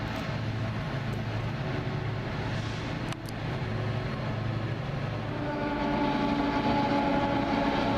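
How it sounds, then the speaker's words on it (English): Crude oil freight train climbing a grade on the River Line near Haverstraw, a loud, steady rumble of engines and rolling cars that swells slightly toward the end, with a faint horn-like tone. "I heard that train from 4 miles away, climbing up the grade."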